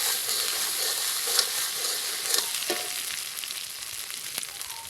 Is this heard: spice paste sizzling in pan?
yes